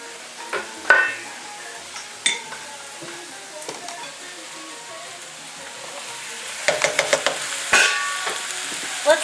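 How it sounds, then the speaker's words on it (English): Pasta tossed into a hot pan with salmon and crushed red pepper sets off a crackling sizzle, punctuated by sharp clinks and scrapes of a utensil against the pan, with a burst of stirring toward the end. "And now we're gonna add in our pasta."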